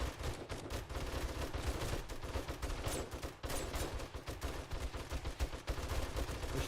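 Dense, continuous gunfire from the survival game 7 Days to Die, a base defense with a kill box and light poles nearby, rapid shots overlapping into a loud, steady fusillade with no pauses.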